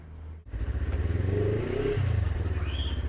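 A 2023 Taro GP400 motorcycle engine cranks and catches, then idles with a throbbing rumble and a brief rev; close and fairly loud, no talking.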